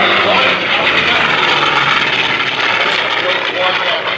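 World War II fighter aircraft flying at an international airshow, a loud sustained engine roar filling the whole stretch with no break, while an announcer talks over it.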